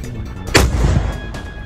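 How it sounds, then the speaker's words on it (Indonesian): Thai artillery fires at the Cambodian border during daytime: a single loud, close booming blast with a rumbling tail, over steady background noise. "Serangan artileri Thailand di perbatasan juga dilakukan di siang hari."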